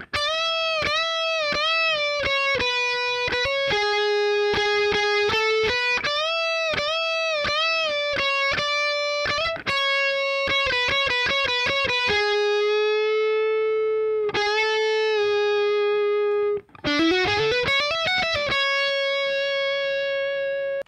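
Distorted electric guitar plays the first harmony line of the solo, a run of sustained, bent and picked notes with a closing slide, loud and close throughout.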